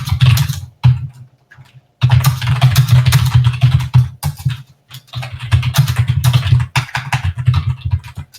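Hard, rapid keystrokes hammer a computer keyboard up close, loud and nearly continuous, broken by a few brief pauses.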